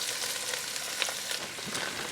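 Chopped onion sizzles in hot avocado oil and butter in a pan, a steady, loud, broadband crackle with no break and no voices.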